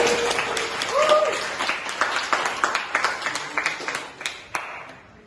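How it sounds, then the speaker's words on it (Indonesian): A talk show audience claps together at a debate on the Sipadan and Ligitan islands dispute between Indonesia and Malaysia, a brief tone sounding early before the applause thins into scattered individual claps. "Boleh tepuk tangan bersama."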